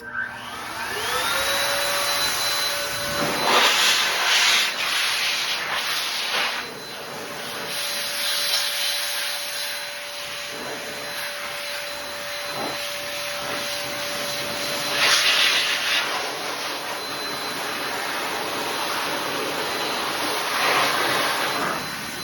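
A powerful McKee's MiniCar air dryer roars continuously with a steady whine, blowing water off a motorcycle, its rushing airflow surging and dipping as it sweeps around.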